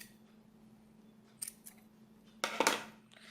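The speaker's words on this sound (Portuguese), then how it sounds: "aperta e aí pode cortar o fio" Scissors snip through crochet yarn in a couple of quick, crisp cuts, a small one followed by a louder double snip, close by against a quiet room.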